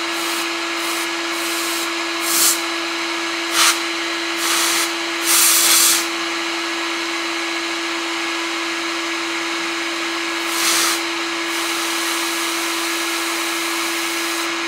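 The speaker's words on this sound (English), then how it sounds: "I'm going to try spraying this directly into the hot air output." A hot air gun blows a steady whooshing hiss with a constant low hum, while short bursts of steam are sprayed into its output at irregular intervals, each burst adding a brief, louder spray sound.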